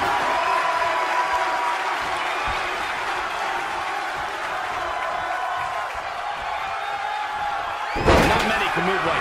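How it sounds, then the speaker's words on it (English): A raucous crowd fills a WWE NXT women's wrestling arena with a steady, loud roar throughout, a sharp slam or smack near the end, and a commentator talking over it. "What a raucous crowd here tonight."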